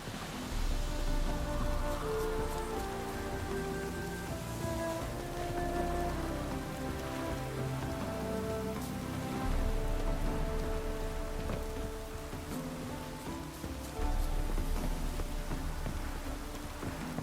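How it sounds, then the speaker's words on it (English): Steady rain pours down continuously in the video game The Witcher 3: Wild Hunt, a dense wash of patter with low rumbling underneath and some tonal ambience, no voices. "Looks like it would rain, and here it is."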